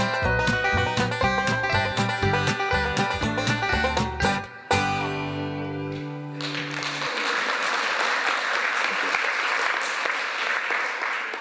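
A studio audience breaks into applause as the end of a self-made podcast theme tune cuts off, the clapping swelling into a dense, sustained wash that carries on alone for several seconds.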